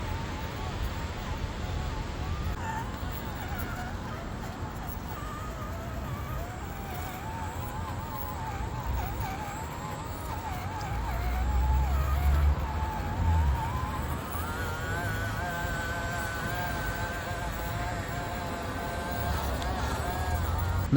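An FMS FCX24M Camel Trophy Land Rover Defender 90 RC crawler drives at steady throttle over obstacles, its small electric motor whirring continuously and rising in pitch midway, with a voice talking over it.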